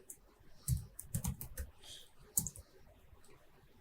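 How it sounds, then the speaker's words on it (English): Keystrokes on a computer keyboard during Python data-analysis coding, several quick clicks in short bursts with pauses between, close and fairly quiet, no talking. "not restricted to just you typing it in"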